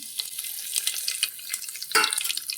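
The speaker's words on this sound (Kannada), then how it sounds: "4 ಸ್ಪೂನ್ ಎಣ್ಣೆ ಹಾಕಿದ್ದೀನಿ, ಸಾಸಿವೆ ಹಾಕಿದ್ದೀನಿ, ಮತ್ತು ಕರಿವೇಪಾಕು ಹಾಕಿದ್ದೀನಿ." Mustard seeds and curry leaves crackle and sizzle in hot oil inside a pressure cooker for a vegetable pulao, giving a steady close spitting hiss with sharper pops and a louder burst near the end.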